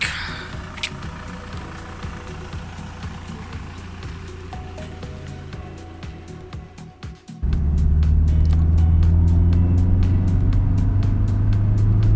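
A Volkswagen Passat TDI drives along with a low engine drone and road noise, then the sound jumps abruptly to a much louder, heavier, steady engine and rumble, close up.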